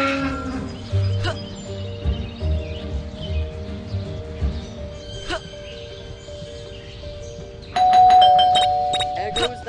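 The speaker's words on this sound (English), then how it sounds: "There goes that stupid bell again." In the Scary Teacher 3D video game, a doorbell rings in repeated chimes near the end, after cattle-like mooing and other game sounds under a voice talking.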